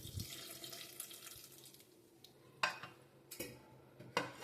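Toor dal (pigeon pea lentils) is washed under a running kitchen tap, a soft steady trickle of water with a few sharper splashes and clinks of grains and vessel.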